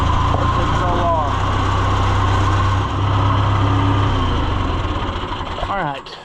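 An old vehicle engine idles with a steady low rumble and vibration throughout, close to the microphone, while a person talks over it.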